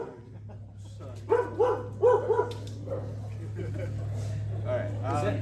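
Dog barking several times in a quick cluster, close and fairly loud, over a steady low electrical hum in a room, with people talking afterward.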